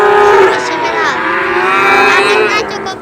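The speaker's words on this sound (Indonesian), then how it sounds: "Ini sapi simental." A Simmental bull at a busy cattle market lets out loud, drawn-out moos close by, with rising and falling lowing calls over a low background rumble.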